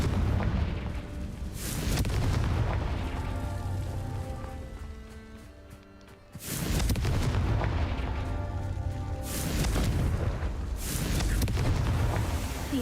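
Confringo blasting spell explosions in the video game Hogwarts Legacy, a sequence of deep booming blasts with rumbling tails and a quieter lull between bursts, loud and close with no talk.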